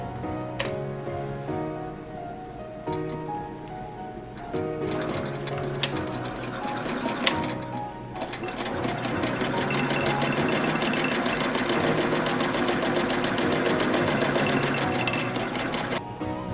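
A sewing machine runs a straight line of stitching through layered fabric for a face mask, a steady close mechanical rattle that speeds up and keeps a continuous busy rhythm with brief pauses early on.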